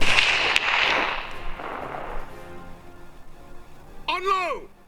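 A single sharp shot from a Mk I Lee Metford rifle during a firing exercise, loud and close, followed by a long decaying echo and then a brief shouted command near the end.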